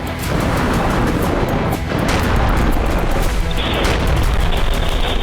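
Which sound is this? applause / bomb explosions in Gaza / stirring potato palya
bomb explosions in Gaza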